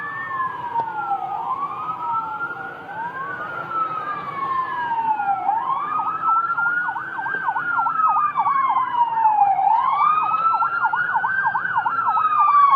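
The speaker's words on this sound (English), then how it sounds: "Oh, fire truck." A loud fire truck siren wails and sweeps up and down continuously, joined by overlapping siren tones from other emergency vehicles, close by and steady with no talking.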